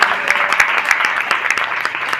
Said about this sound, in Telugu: ఒకసారి చప్పట్లు కొడితే ఎంత బాగుండు